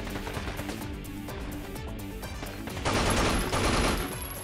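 Gunfire in the video game Binary Domain, rapid bursts of automatic shots with a louder, denser volley near the end, against steady game noise.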